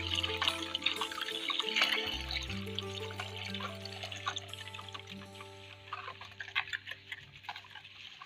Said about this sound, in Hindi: थोड़ा थोड़ा करके पानी डालेंगे और इसे अच्छी तरह से मिक्स करते जाएंगे